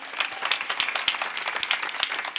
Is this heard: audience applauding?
yes